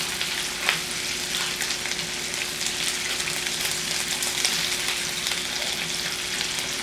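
Ingredients for a spiced shrimp stew frying in hot oil: a dense, even crackling sizzle with small pops, close and continuous, no talking.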